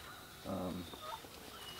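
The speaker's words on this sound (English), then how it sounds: "she is now clucking, and I can hear her along with the rooster" A hen clucks in a flock with a rooster and older hens. A single short, throaty cluck stands out faintly against quiet outdoor background noise.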